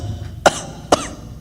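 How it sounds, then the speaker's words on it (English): Two sharp, separate coughs roughly half a second apart from a person suffering from whooping cough, close and loud over a quiet background. "It's not a cold, it's the whooping cough."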